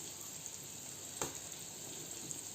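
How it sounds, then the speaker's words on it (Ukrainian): Quiet, steady sizzle of cutlets frying in a pan, a soft continuous hiss with one brief click partway through. "А це мої котлетки жаряться."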